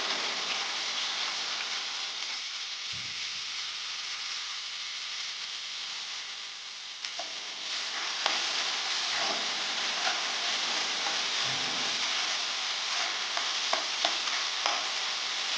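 Chopped onion sizzles in hot oil with fennel seeds, bay leaf, cinnamon and cloves, a loud continuous frying hiss with intermittent stirring clatter and scrapes throughout.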